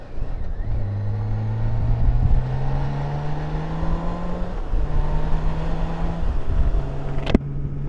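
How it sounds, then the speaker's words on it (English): A BMW K 1600 GTL motorcycle with a 1649 cc six-cylinder engine and six-speed transmission pulls hard and loud, its engine tone climbing in pitch through several gear changes over steady wind rush. "BMW made a 6-cylinder engine for this bike"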